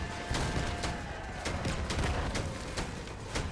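Gunfire in the vehicle combat game Crossout: rapid, loud bursts of shots hitting in a dense, uneven stream with a heavy low rumble underneath.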